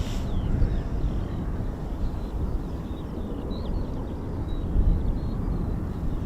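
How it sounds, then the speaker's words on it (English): A Eurofighter Typhoon FGR4 on a performance takeoff at RAF Coningsby gives a heavy, steady jet roar that fills the air and swells slightly, heard from a distance outdoors. "I've had calls for performance takeoffs exactly like this"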